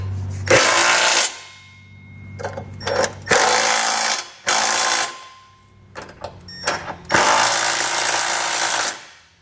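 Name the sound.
tightening trailer hitch bolts with a 3/4 inch socket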